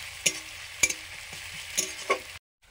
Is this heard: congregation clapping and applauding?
no